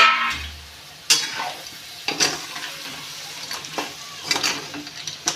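Spiced crab curry stirred in a pan, with a soft sizzle and several distinct scraping, clattering strokes of a spoon spaced about a second apart.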